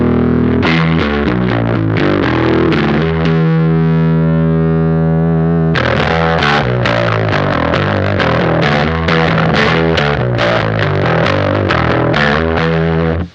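Bass guitar played through a Whimsy Machines JEFF pedal with a snarly, distorted tone: loud sustained notes ring out, then a run of punchy, rhythmic plucked notes continues without pause.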